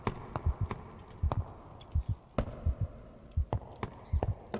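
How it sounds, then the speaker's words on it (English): Footsteps climbing stairs in a video game level land as a steady series of close, hollow thuds, paired in quick double hits at regular intervals, over a soft ambient background. "So footsteps on the stairs are effective."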